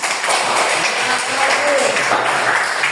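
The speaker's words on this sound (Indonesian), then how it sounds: "kita tepuk tangan dulu untuk Sigrid." A classroom of students applauds a classmate during a lesson, a continuous wash of clapping with some chatter mixed in, fairly even in loudness throughout.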